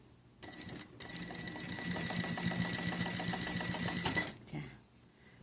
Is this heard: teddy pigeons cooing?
no